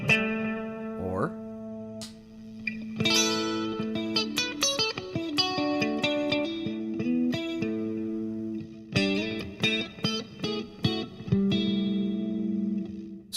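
Electric guitar with its pickup phase switch engaged, played through effects with distortion and chorus, ringing sustained chords and melodic notes with a brief pause near the start, loud and close, with some speech around it.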